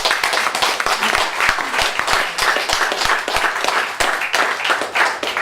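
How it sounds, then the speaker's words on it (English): A close, loud round of clapping from an audience thanking presenters at a community event, dense and steady with individual sharp hand claps standing out throughout. "If we could all just give them all a round of applause."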